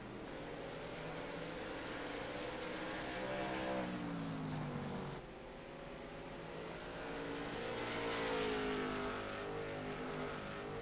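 Late model race cars racing at Myrtle Beach Speedway on a last lap, engines roaring steadily at a distance with rising and falling pitch as cars pass, continuous and unbroken, without voices.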